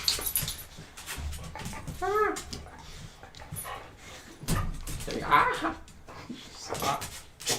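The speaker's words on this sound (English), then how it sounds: "Thought these are my dogs." Several dogs whimper, yip and bark indoors, with scattered high whines and short barks at moderate distance, mixed with a person talking.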